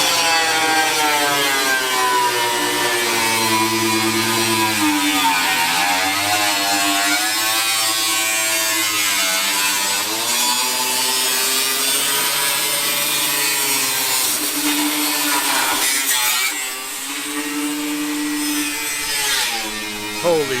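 A large, loud power grinder runs continuously in a workshop during a Ford bus van conversion build, a sustained harsh whine with shifting pitch and gritty abrasive texture, close and steady throughout with a brief dip near the end.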